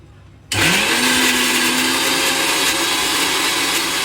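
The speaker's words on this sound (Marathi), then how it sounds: "सो आता ह्याला आपण ग्राइंड करूया" A mixer grinder starts abruptly and runs loud and steady, whirring as it grinds soaked basmati rice, with a constant high motor whine and no talk.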